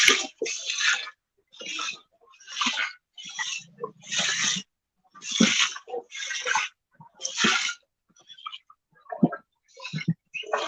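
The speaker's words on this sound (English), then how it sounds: "I'm actually walking through the creek right now." Footsteps wade through a creek, a regular series of close, loud splashing sloshes roughly every second with short quiet gaps between them.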